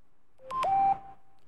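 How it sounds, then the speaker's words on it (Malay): A short phone notification tone with two quick beeps followed by a sustained electronic tone, loud and clear against a quiet background. "Bunyi mesej masuk."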